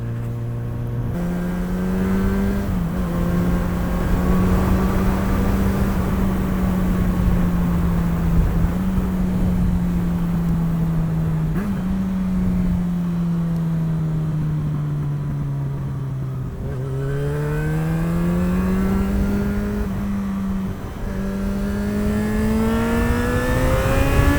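A Yamaha XJ6 motorcycle engine drones steadily while riding, its pitch rising and falling gently with throttle and gear changes, continuous and close under wind noise.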